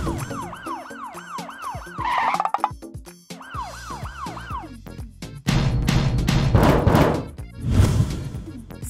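A police car siren yelps in fast repeating up-and-down sweeps, pauses, resumes, and then gives way to loud roaring vehicle and skidding noise.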